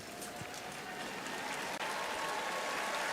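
A Wimbledon centre court crowd at the All England Club applauds as the players walk out onto the grass court, a steady, dense wash of clapping from a large stadium audience, fairly distant, with faint commentary beneath.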